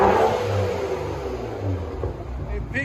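A BMW 5 Series engine revs hard nearby, loudest at the start and then easing off into a lower, rumbling drone.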